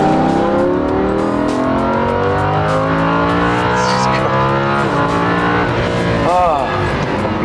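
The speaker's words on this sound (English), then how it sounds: "in the brand new 610 horsepower Lamborghini Huracan" A 610 horsepower Lamborghini Huracan on a racetrack in Las Vegas, its engine loud and close, rising and falling through revs and gear changes with a brief tire squeal.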